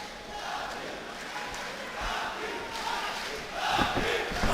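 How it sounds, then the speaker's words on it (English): An MMA fight crowd roars and cheers at an XCC2 event, a broad swelling wash of voices from a distance that rises in intensity toward the end. "Listen to that crowd."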